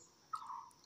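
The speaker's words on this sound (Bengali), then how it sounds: "পাখি ডাকছে দেখো কেমন করে" A single bird calls once at dusk, a short, clear, faint note that dips slightly in pitch against a near-silent background.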